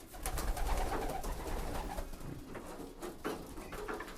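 Racing pigeons coo in a loft, a dense layered murmur of soft low calls from many birds close by, steady throughout with faint rustling and no talk.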